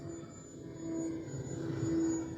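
A Durafly Tundra TPX 1050mm RC model plane flies on its maiden flight, a thin steady electric-motor whine droning at moderate distance, rising slightly in loudness over two seconds with no talk.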